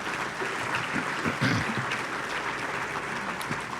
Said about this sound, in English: How about a good round of applause for these scholarship winners?